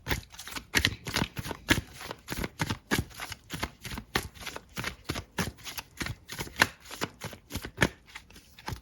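Tarot cards shuffled and handled in a rapid series of crisp, close riffling flicks and taps, heard alone.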